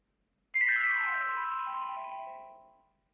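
A Motorola C350 mobile phone plays a ringtone alone: a short electronic melody of layered tones with a falling sweep at the start, holding steady and then fading out after about two seconds.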